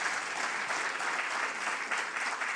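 An audience at a forum on Jeju's development applauds its speakers with steady, dense clapping that fills the room and holds at an even level throughout, with no voices over it.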